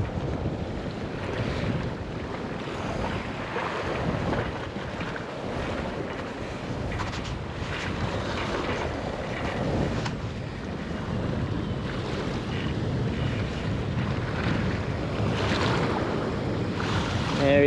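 Ocean waves wash against a rock ledge on a fishing spot, a steady, loud rush of surf and wind noise with swelling surges throughout.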